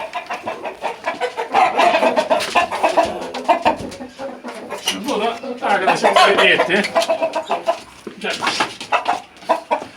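Chickens and a rooster clucking and calling near the microphone, mixed with someone talking over them; the rooster is a hard-feathered breed.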